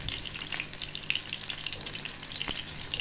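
A pomfret fish coated with rice flour and masala frying in oil in a pan, a continuous bright hiss of sizzling with frequent small crackles and one or two sharper pops, fairly quiet and close.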